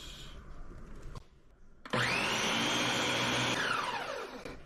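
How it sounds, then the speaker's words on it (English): Countertop blender pureeing whole plum tomatoes for pasta sauce, starting abruptly after a quiet pause and running as a loud steady motor whine for about two seconds before winding down. "we're gonna blend up our tomatoes"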